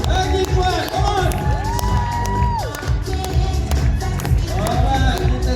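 A live audience at a product presentation claps and cheers loudly and steadily throughout, with shouts and whoops rising over the crowd noise and a sustained tone sounding midway.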